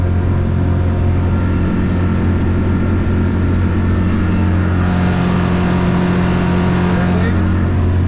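Glasply 19 boat engine running at 5,200 rpm while being trimmed up, a loud, steady drone with a deep hum that stays constant from start to finish.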